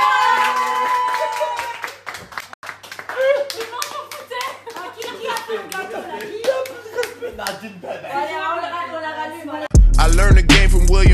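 Applause and clapping at a birthday celebration, sharp hand claps scattered over loud talk and music, swelling into a dense, loud burst near the end.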